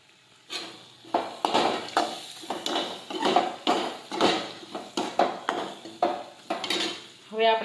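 Kantola (spiny gourd) curry with green garlic being sautéed in a pan: a spoon scrapes and clinks against the metal in a quick, uneven run of strokes over a soft sizzle, close and alone.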